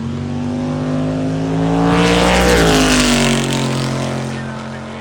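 Big-block Camaro drag car on nitrous making a hard run, a loud sustained engine roar with steady harmonic drone that swells and peaks mid-pass before easing away, no talk.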